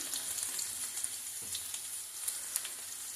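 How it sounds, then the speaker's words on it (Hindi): Garlic fries in a pan of hot oil while cooking sarson ka saag, giving a faint, steady sizzle with soft crackles and small pops and no talking. "धनिया के बाद डालेंगे इसमें लहसुन, लहसुन को भुनने देंगे"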